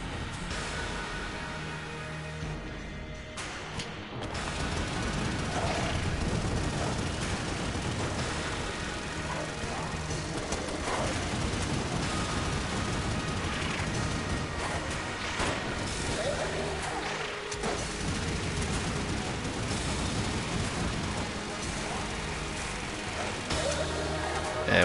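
A Yari launcher fires in an Enter the Gungeon boss fight, a dense, sustained barrage of rapid rocket blasts and explosions that runs loud and nearly unbroken throughout.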